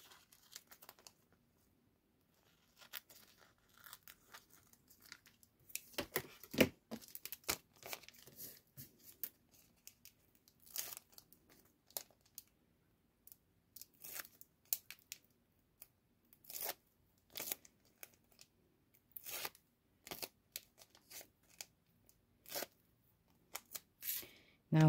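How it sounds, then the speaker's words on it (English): Scissors cutting a paper back piece for a toilet paper roll junk journal frame: quiet, close, irregular snips and crinkling paper rustles spread across the whole stretch, with pauses between bursts. "Get up the scissors, cut the back in the size"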